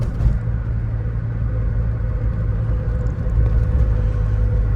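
Low, steady engine rumble from inside a 1991 Saab 900 Carlsson rolling along at low speed, a constant close drone with a slight swell near the end and no talking.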